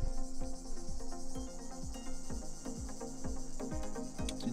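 Cicadas sing beside a vineyard at dusk in a fast, regular pulsing chirr that repeats steadily throughout, fairly faint and alone with no voices.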